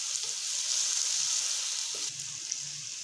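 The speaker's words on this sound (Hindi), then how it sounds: "बट अब हम लोगों ने इसको मसालों के साथ अच्छी तरह से फ्राई कर लेंगे" Boiled beef frying with spices in a pot for beef pulao, a continuous bright hiss of hot oil at close range that softens slightly near the end, with faint stirring knocks underneath.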